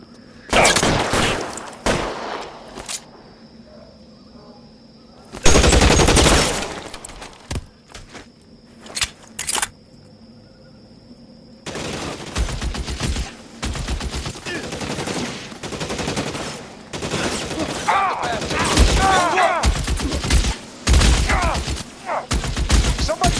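Bursts of gunfire in an L.A. Noire shootout: rapid volleys and single shots, some loud and close, with dense sustained firing through the second half, scattered footsteps, and brief game voices between bursts.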